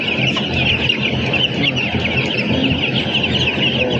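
Chickens and chicks cluck steadily and close by, a dense, continuous flock chatter with overlapping calls and occasional sharper peeps throughout.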